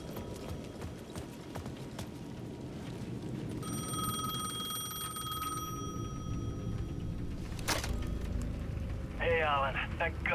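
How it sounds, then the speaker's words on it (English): In Alan Wake 2, a payphone at the edge of a plaza rings with a steady electronic tone through a dark, rumbling ambience. A sharp burst cuts in near the end as the ringing continues. "The payphone at the edge of the plaza was ringing again."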